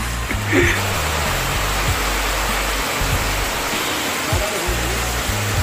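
Heavy rain pours down in a dense, constant hiss that covers everything. Faint voices sit low beneath the downpour.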